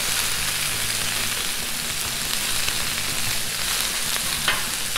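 Chopped onions frying in a hot pan, a loud, continuous crackling sizzle up close, with scraping stirring noises mixed in and no talk.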